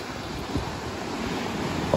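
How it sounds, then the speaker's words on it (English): Large ocean waves surging onto a rocky beach in the morning, a steady broadband wash of surf with wind noise on the microphone and a slight swell toward the end. "Look at those waves crashing down."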